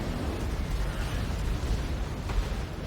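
Dense, continuous rumbling booms of heavy cannon fire in the video game Warhammer blend into a roaring battle din, loud and sustained without pauses, with no voices.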